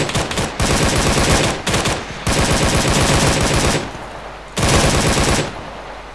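Sustained automatic gunfire in the military shooter Arma 3 during a fire-and-movement drill, loud rapid bursts separated by brief pauses, with no talk over it.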